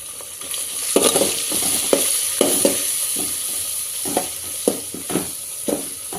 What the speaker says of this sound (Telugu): ధనియా పౌడర్ గరం మసాలా పౌడర్ బిర్యానీ మసాలా వేసుకొని మిక్స్ చేసుకోవాలి